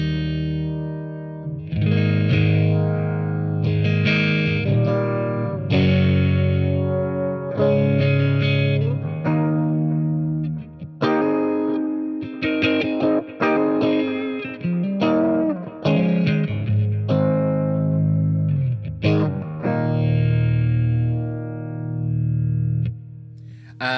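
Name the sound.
electric guitar with univibe effect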